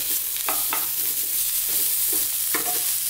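Spice powders sizzle in a hot pan for an eggplant coconut masala while a utensil stirs them, giving a constant close frying hiss broken by a few sharp scraping strokes.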